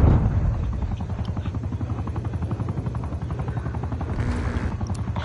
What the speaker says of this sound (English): Enemy spy plane inbound.